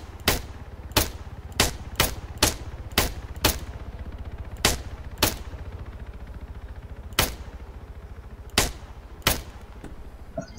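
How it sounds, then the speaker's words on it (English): Gunfire in a video game, a dozen or so sharp, loud single shots fired in uneven succession, some in quick pairs and others spaced out by short pauses. "I'm shooting it repeatedly, boys."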